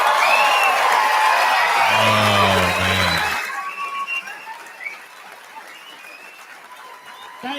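Loud applause, whoops and cheering from the audience at a live show, dense for about three seconds before thinning out into scattered claps and voices, with a sung or spoken voice over the start.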